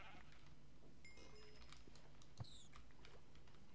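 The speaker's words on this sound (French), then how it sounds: "On a un mouton ici." A sheep in Minecraft bleats once, short and fairly close, over busy game background noise and faint pattering; no one speaks.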